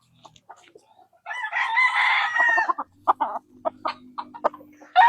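A Sweater-breed gamefowl rooster at a game farm gives one loud, close crow, then a run of short clucks and scattered bird calls follow.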